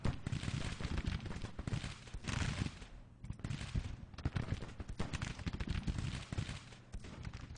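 Rapid gunfire from a Civil War battle in the strategy game Grand Tactician, with dense overlapping volleys and shots crackling continuously at a steady loud level, briefly thinning for a moment before resuming.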